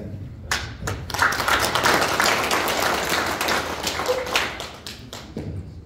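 A room of residents at a county town-hall meeting breaks into steady applause, dense hand clapping that swells quickly and holds for several seconds before tapering off.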